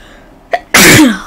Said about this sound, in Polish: Sorry, że kicham.